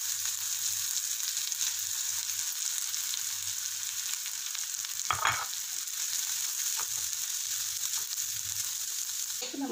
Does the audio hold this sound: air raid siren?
no